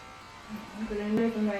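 Small, quiet electric clippers buzz close up while trimming a Shih Tzu's fur around the wrinkle of its face; the steady hum rises in the second half and a voice talks softly alongside.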